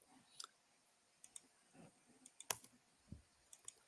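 Sparse, faint computer mouse clicks, single sharp ticks scattered irregularly with quiet gaps between them and no talking.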